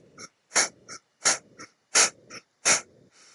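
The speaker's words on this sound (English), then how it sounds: "deep breathing." Long, deep yogic breaths during a breathwork session, about four strong breathy exhalations in a slow, even rhythm with softer inhalations between, close and clear, with no speech.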